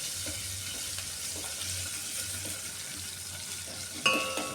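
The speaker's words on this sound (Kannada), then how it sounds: "ಇದು ಬೆಳ್ಳುಳ್ಳಿ ಚೆನ್ನಾಗಿ ಫ್ರೈ ಆಗಬೇಕು" Garlic frying in a pan while being stirred, a steady crackling sizzle with scattered scraping, closing with a brief sharper clatter.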